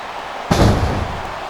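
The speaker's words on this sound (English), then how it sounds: "My God, what an impact!" A wrestler crashes onto the mat from a Batista bomb in a no-DQ ironman match, one sudden loud thud with a short booming decay over steady arena noise.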